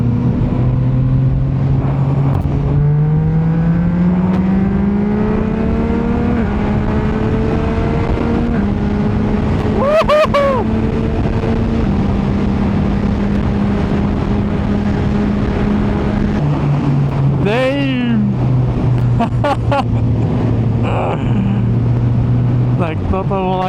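Car accelerating hard on a long straight road past a Slovak village toward Spiš Castle, a loud engine climbing through the revs with gear changes and rising pitch, heard from inside over a steady roar.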